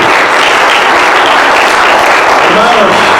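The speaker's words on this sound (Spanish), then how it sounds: "Pues denle un fuerte aplauso al querido." Loud, dense applause fills a church congregation's worship service, a continuous wash of many hands clapping at full strength without a pause.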